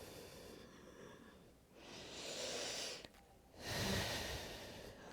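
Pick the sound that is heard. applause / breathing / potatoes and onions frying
breathing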